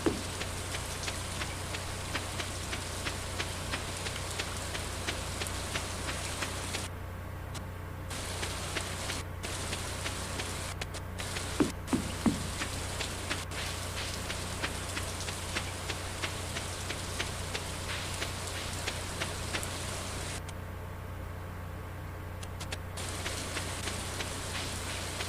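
Rainfall in Stardew Valley makes a constant soft hiss of droplets over a low hum, broken by a few short gaps and light taps, heard alone without talk.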